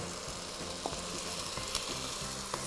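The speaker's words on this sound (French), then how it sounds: "D'abord on fait bien revenir la cuisse" A seasoned chicken thigh sizzles and browns in a hot pan, a steady dense frying crackle with a few sharper pops, close and alone.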